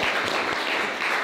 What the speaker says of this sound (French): On applaudit Lucien là en tech pour les jeunes verts libéraux